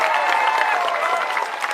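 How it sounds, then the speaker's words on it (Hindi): A crowd claps at an outdoor political rally in Govindpur, Nawada, Bihar, a short burst of dense, moderately loud applause with some crowd noise beneath it. "बजा लो ताली जोर से।"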